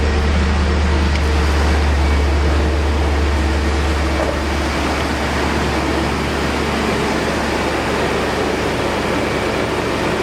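A BMW E39 M5 engine idles right after an alternator replacement, a loud, continuous, low rumble with a steady hum that holds for about ten seconds.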